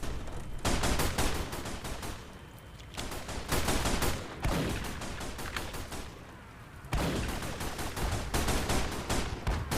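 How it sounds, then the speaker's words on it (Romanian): Video game combat with rapid bursts of loud gunfire and explosive blasts in repeated volleys, dense and close, with brief lulls between them and no speech. "M-a explodat în față."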